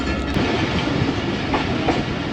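The Allama Iqbal Express passenger train runs on the main line after leaving Khanewal Junction, with a steady rumble and rhythmic clickety-clack of wheels on rail joints, heard close and continuous without speech.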